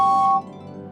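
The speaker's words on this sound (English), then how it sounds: "he has a whistle that sounds like this" A single short, steady whistle tone holds for about half a second, then cuts off, leaving a faint low hum.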